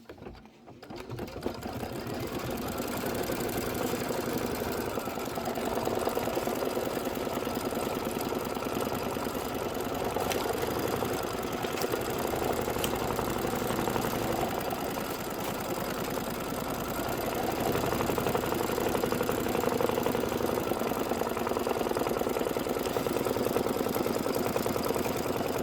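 An embroidery sewing machine stitches down the fabric of a witch hat pillow, its steady mechanical whirr and rapid needle chatter running continuously and loudly with no talking.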